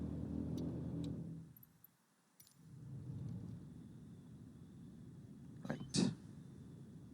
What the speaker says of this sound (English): Engine stopped